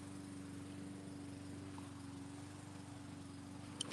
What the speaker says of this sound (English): I'm starting a lawnmower.